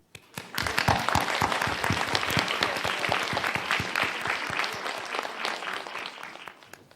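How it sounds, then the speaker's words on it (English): An audience at a science and economics talk applauds to welcome a professor: dense, sustained clapping from many hands that swells quickly, holds steady, then thins out toward the end. "Let's give a warm applause to welcome Professor Gang."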